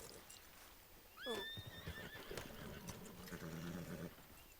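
Horses in a Wild West role-play video game let out a sharp, clear whinny, followed by hoof clip-clops and shuffling close by in a quiet outdoor scene.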